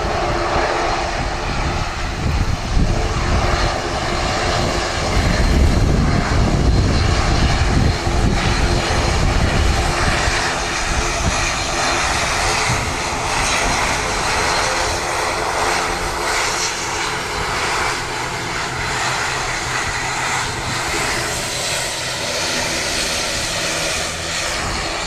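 Turboprop engine of an ATR 72-600 at Wellington Airport, a loud steady drone that swells around the middle and then holds, broadband and continuous with no talk over it.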